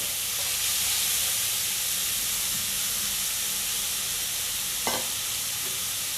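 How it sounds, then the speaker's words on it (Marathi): Grated carrots sautéing in hot ghee in a wok for sabudana kheer give a steady, close sizzling hiss throughout, with one brief metallic clink of a utensil near the end. No one speaks. "गाजर असं छान असं थोडंसं परतून घ्यायचं"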